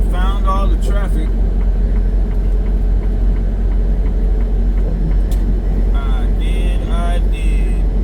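Steady road traffic rumbles from inside a truck cab on a highway near Kansas City, a constant low drone of engines and tyres with occasional ticking and brief higher tones over it.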